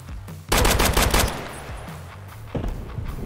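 Gunfire in Escape from Tarkov, a loud burst of rapid automatic shots followed by a second, shorter volley, with no talk over it.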